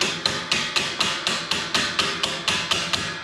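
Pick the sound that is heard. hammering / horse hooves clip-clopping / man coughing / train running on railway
hammering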